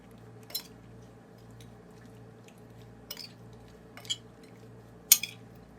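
Shrimp marinade with black pepper, red chili powder and vinegar is stirred in a bowl, giving a few sparse utensil clinks and wet squishes against a quiet hum, spaced irregularly with one sharper clink near the end.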